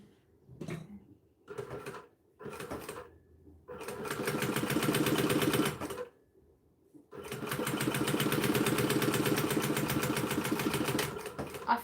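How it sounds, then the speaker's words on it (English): A 1970s sewing machine stitches a seam, starting with three short bursts, then two long steady mechanical runs with a brief pause between them, close and loud. "I feel like I'm sewing better with that guard off"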